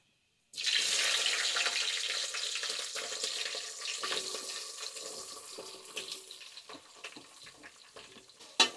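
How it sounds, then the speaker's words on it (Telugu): Onions added to hot oil with mustard seeds and green chillies burst into a loud sizzle that slowly fades over several seconds, with a few stirring scrapes and no speech. "ఈ ఉల్లిపాయలు ఎర్రగొడానికి మినిమం ఒక 5 నిమిషాల టైం పడుతుంది"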